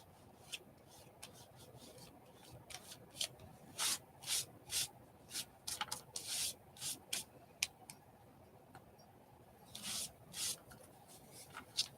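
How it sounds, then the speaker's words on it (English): A second coat of paint is rubbed away from a surface by hand, giving faint, close, irregular scratchy rubbing strokes in quick clusters with short pauses between them. "We are getting a little more of the second coat rubbing away there."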